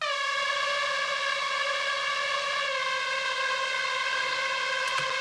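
A Serum synth lead holds a sustained, harmonically rich tone with stacked bright overtones, playing continuously and loudly in a heavy metal-style mix, with no voices.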